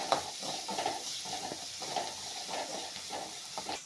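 Onions sautéing in a pan with a little salt for paniyaram, a soft low sizzle under repeated scraping and clinking of a spoon stirring against the pan, fairly quiet and close.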